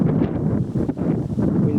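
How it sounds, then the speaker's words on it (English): Wind gusts buffet the microphone on an open countryside walk along the Saxon Shore Way, a loud, rough, continuous rumble that surges and dips over a couple of seconds with no voices. "Wind's picking up again"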